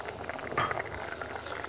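Chicken and sauce cook in a frying pan with a soft, steady bubbling sizzle throughout, fairly quiet and unbroken.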